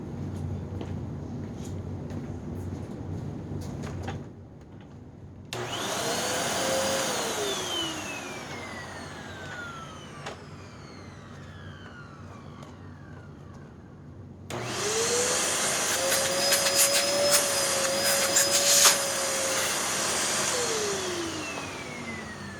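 A Hoover NanoLite vacuum cleaner runs close by, its motor whine rising and falling as it sucks up a painter's tarp, then cuts out and restarts louder in a second long run.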